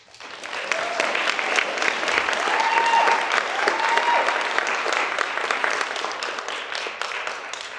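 Steady crowd applause fills the room at a beauty pageant evening, dense and sustained for several seconds with a few faint whistles riding on top.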